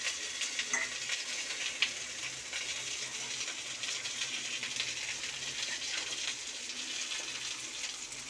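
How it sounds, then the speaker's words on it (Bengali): Potatoes, fried separately so they hold their shape, sizzle steadily in a pan as a dense hiss with faint scattered crackles, no voices. "আলাদা করে ভাজছি আলুটা"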